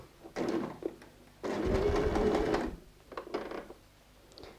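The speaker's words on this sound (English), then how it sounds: "go and sew a 1/2 inch stitch starting and finishing with a back stitch" A sewing machine stitching a tote bag panel with a half-inch seam and back stitches, running in short bursts then a longer steady whir, close and without talk.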